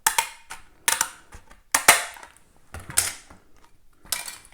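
A paper cutter slicing through a CD, a series of sharp crunching snaps and cracks spaced about a second apart, close and distinct, with quieter clicks between the cuts.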